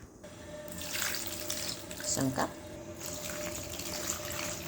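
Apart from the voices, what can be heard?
water poured into a pot for boiling saba bananas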